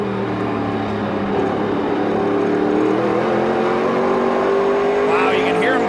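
A NASCAR Canadian Tire Series stock car driven by Scott Steckley accelerates on a road course, its engine droning steadily and rising in pitch under continuous commentary.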